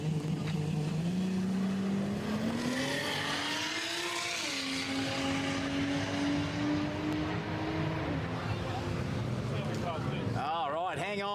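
A Lamborghini rises in pitch as it drives past at a street car event, its engine note climbing and then holding steady loud and close over a constant crowd din, with people talking throughout.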